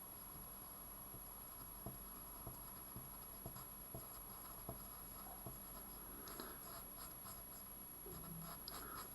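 A pencil scratches and taps across a paper diagram at close range, faint light strokes with small regular ticks, followed by a few brisker scribbles, no voices.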